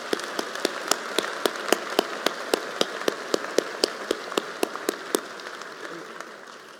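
Applause at a military college inauguration for emeritus members, with a steady wash of hand claps and sharp, evenly spaced louder claps standing out throughout, slowly tapering toward the end.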